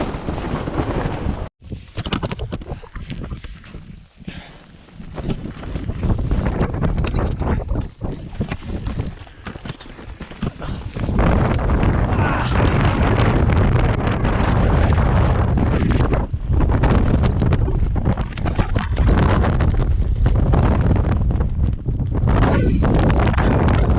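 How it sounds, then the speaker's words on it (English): Strong wind at Black Peak mountain roars and buffets against the microphone, gusting unevenly at first and then blowing loud and constant, with occasional voices underneath. "wind is coming from all sides, this side"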